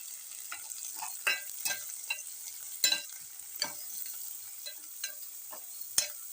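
Onions frying with turmeric in a pan, soft sizzling under repeated sharp spatula scrapes and clicks against the pan at an uneven, unhurried rhythm, close by with no talking.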